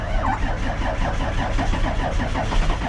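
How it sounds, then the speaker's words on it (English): A form truck's engine cranks and turns over in cold, icy winter conditions, a loud close rhythmic churning that stays steady and urgent with no voices over it. "Now hopefully the form truck starts."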